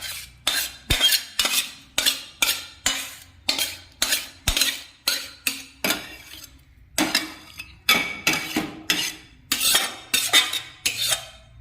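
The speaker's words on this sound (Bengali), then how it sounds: "গ্যাস অফ করে দিয়েছি, পালং পনিরটা ঢেলে নিচ্ছি।" Once the heat is off, a spoon scrapes and knocks against a pan in a quick, steady series of metallic strokes as palak paneer is served out. Two sharper clanks stand out among them, all close by with no talking.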